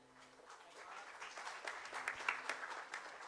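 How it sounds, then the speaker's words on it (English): Applause for a quiz master at a civil engineering quiz event, quiet scattered clapping from a small audience that builds slightly, heard faint and somewhat distant. "deserves a much louder round of applause"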